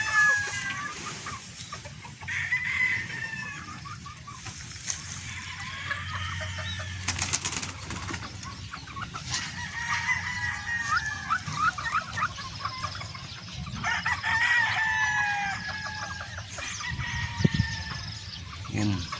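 Chickens on a game farm clucking and calling over one another, with a rooster crowing partway through and occasional wing flaps, fairly close by.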